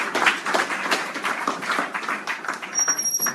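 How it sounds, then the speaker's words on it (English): A church congregation gives the Lord a round of applause during a sermon, dense clapping from a crowd sustained evenly for several seconds with a faint voice underneath. "Give the Lord a round of applause."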